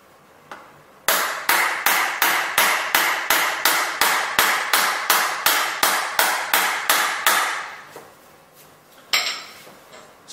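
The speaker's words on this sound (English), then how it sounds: "I'm going to get this big hammer and I'm going to absolutely smash this phone as hard as I can" A hammer strikes a mobile phone repeatedly in a fast, even rhythm of about three loud, sharp hits per second, then a final blow after a pause.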